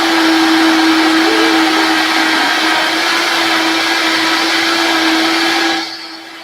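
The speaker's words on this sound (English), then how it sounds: "So we are going to blend. I like to start slow and then add a little bit of speed until it's nice and creamy." A vacuum blender whirs loudly and steadily while blending salad dressing, a constant motor drone with a fixed tone that cuts off abruptly near the end, with no talk.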